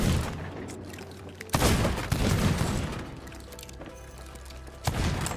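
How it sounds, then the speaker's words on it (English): A gun in Sea of Thieves fires with heavy, booming shots, a few loud distinct blasts standing out over a rumbling backdrop of continued firing. "You aim and you spam that trigger, right?"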